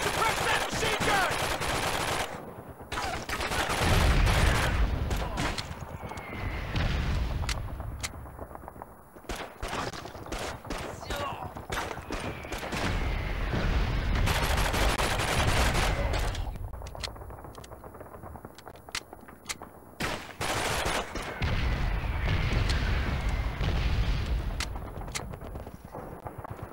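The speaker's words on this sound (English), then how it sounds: "Suppress that machine gun!" Bursts of machine gun fire in Call of Duty 2: Big Red One ring out in repeated loud volleys, with rapid rattling shots, heavier booms and brief lulls between them.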